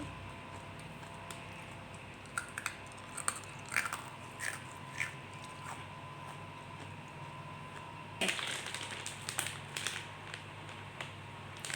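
Crisp, sharp crunches as a small blue candy is bitten and chewed close to the mic, a scattered series of quiet snaps with a louder burst of crunching near the end.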